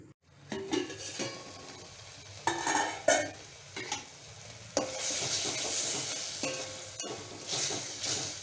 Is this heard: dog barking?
no